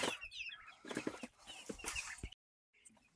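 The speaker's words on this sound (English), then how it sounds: "Buff orpington rooster." Buff Orpington rooster and hens clucking and calling close by, with busy overlapping bird chatter through most of the stretch, a brief silent gap, then faint clucks resuming.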